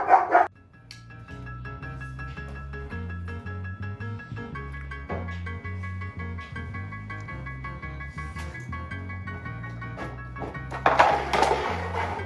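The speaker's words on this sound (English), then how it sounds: "Bro's fussing at Bear, but Bear don't care" A huge wolfdog indoors gives short barks and fussy whines, loudest at the start and again near the end, over a low, steady, tonal drone.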